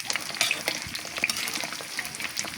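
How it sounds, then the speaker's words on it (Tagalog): Banana cue pieces fry in hot oil with a busy, crackling sizzle. Soft stirring scrapes and pops run continuously at close range. "sinalang na po natin ang ating banana Q"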